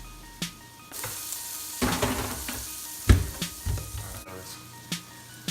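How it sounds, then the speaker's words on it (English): Ground beef frying in a pan, with a steady sizzle broken by clanks and scrapes as the meat is stirred, close and fairly loud, with no talking. "Ground beef. Alright, just gonna let this cook a little bit more."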